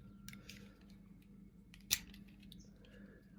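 Scissors cut heat-shrink tubing during work on a Yamaha SR250 motorcycle, giving a single quiet, sharp snip close by in a hushed workshop.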